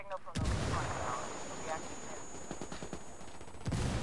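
Loud bursts of gunfire and a blast in the Ghost Recon shooter game, dense broadband booms and rapid shots throughout with a heavy impact near the start and end, a voice talking faintly underneath.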